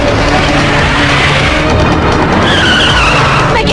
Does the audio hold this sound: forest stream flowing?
no